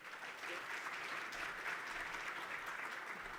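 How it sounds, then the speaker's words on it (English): Conference audience at a green hydrogen event applauding a speaker, a steady, fairly soft blanket of many hands clapping in a large hall, sustained throughout without talk. "Let's give him a round of applause,"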